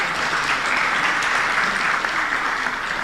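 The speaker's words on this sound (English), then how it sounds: "Please give him a round of applause." Applause from a general assembly audience in a hall, a loud continuous sheet of many hands clapping evenly, with no talking over it.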